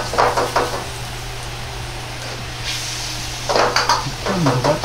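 A sauce simmering in a pan for a Chinese-style hamburger steak as potato starch slurry is poured in and stirred, with a steady low bubbling and short scraping spoon strokes near the start and end.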